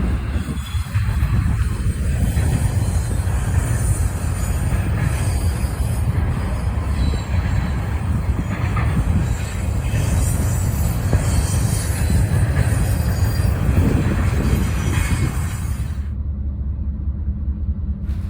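A high-priority intermodal freight train passes close by in Berea, a loud, steady rumble of wheels and cars with squealing wheels over it, cutting off sharply near the end.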